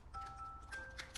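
A faint electronic phone alarm chimes in short steady beeps, soft and somewhat distant against low background hum.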